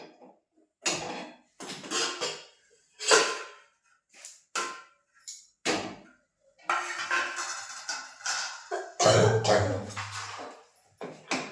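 Someone suffering from a cold coughs repeatedly during late-night cooking at home, harsh close bursts in irregular clusters separated by short silences.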